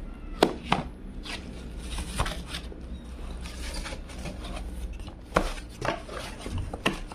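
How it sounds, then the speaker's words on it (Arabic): Cardboard retail box for a KIKPI KP1 Android TV box being opened by hand, with scattered close papery scrapes, taps and rustles as the outer sleeve slides off, no talking. "أول حاجة نحو العلبة، راح تولي عندنا علبة ثانية"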